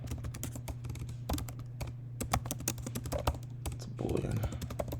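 Steady typing on a computer keyboard, rapid irregular clicks close by that run throughout with a low hum underneath and occasional faint talk.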